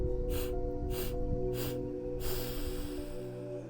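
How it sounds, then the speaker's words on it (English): Four to five short, sharp inhalations in a quick series during a guided breathing exercise, close and clear over a low steady hum, with no talking. "Breathe in 5 short breaths."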